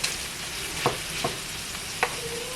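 Rice tipped into a hot pan and stirred while cooking a weeknight family dinner, giving a steady sizzle broken by a few sharp scraping stirs, close and moderately loud with no talking.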